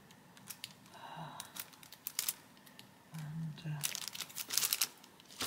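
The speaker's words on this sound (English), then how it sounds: "I'm just trying to cut open the cellophane, but the scissors I've picked are blunt" Blunt scissors snip and crinkle through cellophane wrapping on a pencil set in short, scattered bursts of crackling and clicks, close and fairly quiet, with brief pauses between cuts.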